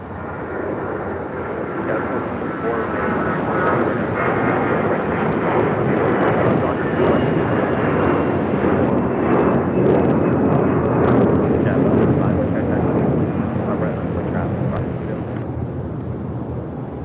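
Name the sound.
American Airlines Flight 1952 airplane departing to Charlotte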